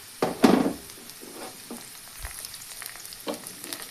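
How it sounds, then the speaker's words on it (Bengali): Chopped spices and ginger hit hot oil with browned onions for a moong pulao, sizzling with sharp bursts as they are stirred, a few scraping strokes of the spoon against the pan, close and otherwise quiet. "মশলাগুলো একবার দিয়ে এগুলোকে ভালোভাবে নেড়ে নিতে হবে"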